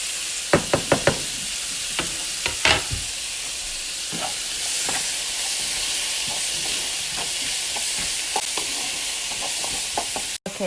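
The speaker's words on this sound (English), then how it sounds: "Now I'm going to add the onions and garlic and saute that for a couple minutes as well." Mushrooms, onions and garlic sauté in a hot pan for a Salisbury steak dish, giving a steady broadband sizzle with sharp utensil clicks and scrapes early on and scattered stirring knocks throughout, close and fairly loud.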